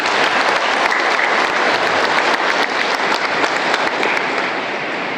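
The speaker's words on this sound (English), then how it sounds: "So can you give a big clap for him, please?" Sustained applause from a crowd at an urban transformation and startup summit in Mahabubnagar, dense and loud clapping that holds evenly throughout with no talk over it.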